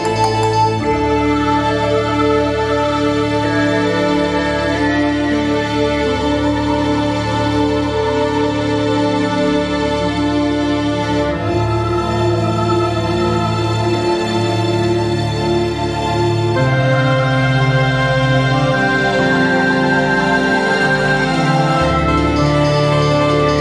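Dense orchestral layer sits within a progressive-style music mix during playback, with sustained strings and harmonic swells running steadily and loudly throughout, shifting texture partway through, no voices present.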